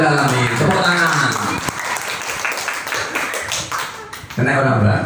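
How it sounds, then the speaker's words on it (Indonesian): Audience applause at a school curriculum workshop in Kediri, East Java, a dense burst of clapping spread across the room and mixed with voices, easing briefly before swelling again at the end. "Tepuk tangan."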